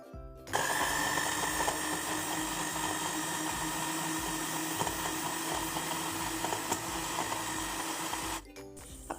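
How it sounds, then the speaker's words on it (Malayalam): A mixer grinder blends ragi and dates into a shake, its motor whirring loud and steady for about eight seconds before cutting off abruptly near the end. "ഇനി ജാർ അടച്ച് വെച്ചിട്ട് നന്നായിട്ടൊന്ന് അരച്ചെടുക്കാം."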